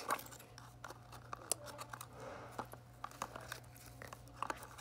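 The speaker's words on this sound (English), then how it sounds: "Let's just get the scissors and cut." Scissors snip through packaging in a string of quick, faint clicks and crinkles close by, with soft rustling between the cuts.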